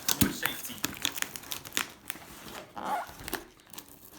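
Crinkling plastic packaging of diecast toy cars crackles and rustles up close as children's safety scissors snip through it in a series of short cuts.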